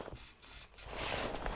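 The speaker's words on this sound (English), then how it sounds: "So I'm looking for a bit of easy start. Just give a little in the carb." Starting fluid is sprayed from an aerosol can into the carburetor of a Yamaha side-by-side, a close, steady hiss in a few short bursts followed by a longer spray.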